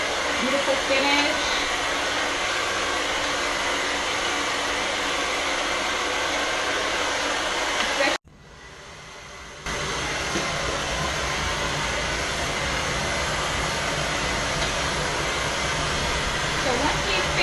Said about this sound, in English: Utilizing our Express Ion Dry Plus Blow Dryer